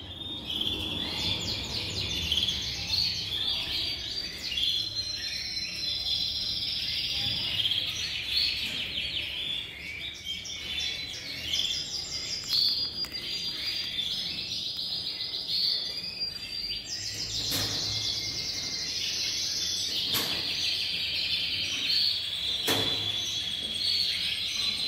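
Yorkshire canaries chirp and trill continuously in a breeding house, a dense, steady chorus of bright overlapping song with occasional sharp clicks and knocks, no talking.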